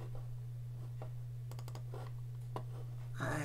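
Mouse clicks from confirming a dialog in Photoshop: a few faint, sharp clicks, some close together in short bursts, over a steady low electrical hum, with a louder rustle near the end.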